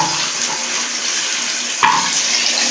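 Water poured from a glass into a pot of aloo pulao rice, a steady close splashing stream running throughout with a brief louder splash near the end, no talking.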